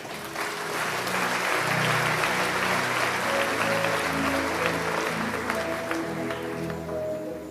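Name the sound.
audience applause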